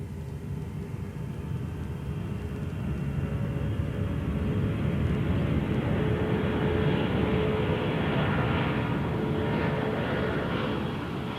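An aeroplane passes overhead as a broad, steady roar that swells gradually and stays loud throughout, with no voices over it.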